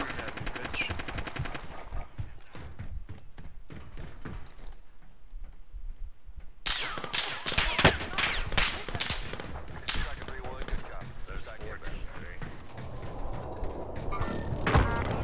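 Rapid bursts of automatic gunfire from Call of Duty: Modern Warfare crackle through a firefight, with a brief lull before dense, loud volleys resume and continue to the end.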